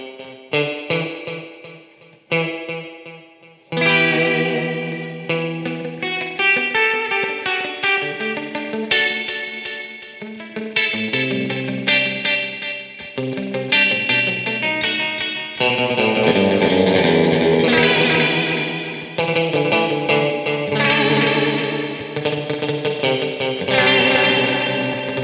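Electric guitar played through a Wampler Catacombs reverb and delay pedal, with the reverb drip being delayed: ringing melodic notes and chords that swell, echo and wash together, growing denser and louder toward the end, alone without talk.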